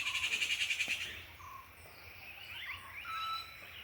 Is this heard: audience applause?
no